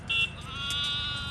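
A sheep gives one short, quiet bleat, then a longer, wavering one, both fairly faint over low background rumble, with no talking.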